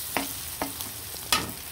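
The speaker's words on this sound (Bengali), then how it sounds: "এখন পেঁয়াজগুলো বাদামি কালার হয়ে আসা পর্যন্ত অপেক্ষা করব।" Onions frying in oil in a pan for a home-style chicken and potato curry, with a low sizzle broken by a few sharp stirring scrapes. The sounds come close and moderate, and no one speaks.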